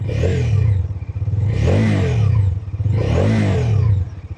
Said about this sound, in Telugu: సో మనకి దీని యొక్క ఎగ్జాస్ట్ సౌండ్ అనేది వినడానికి చాలా బాగుంది. ఒక్కసారి రవ్విస్తాను.